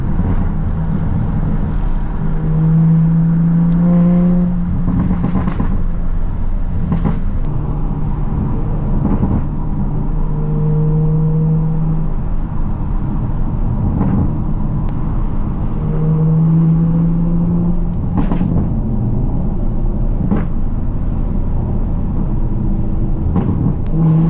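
A 500 hp Toyota MK5 Supra with a loud exhaust on a canyon road, its engine droning and rising through repeated revving pulls and gear changes, heard from inside with steady road and wind noise.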